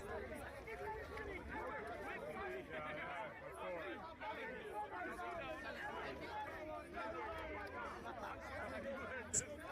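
A crowd gathered around a speaker at Speakers Corner, a faint, continuous babble of many overlapping voices with some people talking nearby.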